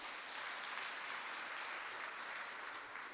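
Steady audience applause fills a women leaders' summit panel hall, a dense, even wash of clapping with no voices above it, sustained at a moderate level from start to finish.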